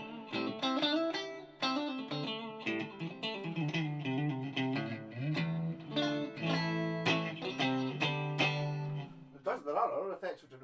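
An electric guitar through a Marshall MG30DFX amp with its reverb effect plays chords and single notes with a reverb wash, strummed and picked in a loose, continuous phrase.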